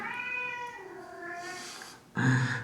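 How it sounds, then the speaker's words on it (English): A house cat meows in a drawn-out, wavering cry across most of the moment, then lets out a louder, sharper second meow near the end, close to the microphone with no talking. "Sorry guys, my cat."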